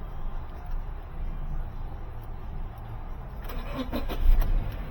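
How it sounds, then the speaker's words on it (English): A 2016 Subaru Crosstrek with a P0801 fault turns over and catches near the end, a short start burst rising above a steady low cabin rumble. "Turn the car on."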